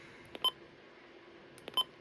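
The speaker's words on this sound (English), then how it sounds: "The button beeps, you could still disable them," A Midland WR400 weather radio gives two short electronic button beeps about a second and a half apart, each preceded by faint clicks of the buttons being pressed, in a quiet room.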